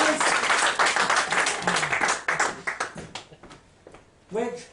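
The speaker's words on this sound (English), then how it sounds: "Give me a round of applause to go back to the lines." Audience applause at a live comedy mind-reading show, a burst of clapping that thins into scattered claps and fades, followed by a voice starting to talk.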